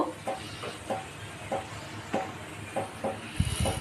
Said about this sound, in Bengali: এগুলোকে ভালো মতো কচলে বিচিগুলো বার করে নেব।